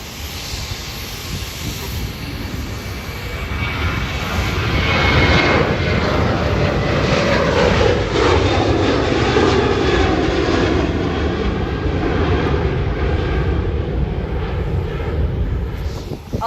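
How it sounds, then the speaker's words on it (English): A Southwest Airlines Boeing 737-700 jet departs Hollywood Burbank Airport, its engine roar swelling to a loud, sustained rumble with a sweeping whine as it accelerates past, with no voices. "Southwest Airlines now departing to San Francisco on a 737-700."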